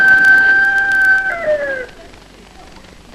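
A rooster crows once, loud and close, in a long drawn-out call that bends upward and then trails off, ending in quiet.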